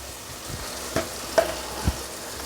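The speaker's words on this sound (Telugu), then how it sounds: "టమోటాలు బాగా వాడ్చుకోవాలి." Tomatoes frying in a pan for sambar, with a soft, continuous sizzle and a few stirring scrapes and thumps, close by and with no voices.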